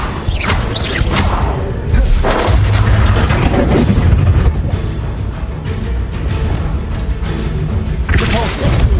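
The Descendo spell in Hogwarts Legacy, sounding as loud booming, rumbling impacts mixed with dense combat effects that continue throughout.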